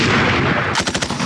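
A rapid burst of live-round rifle or machine-gun fire rattles out in the hills during army cavalry promotion selection tests, several sharp, closely spaced loud shots following a steady, noisy background.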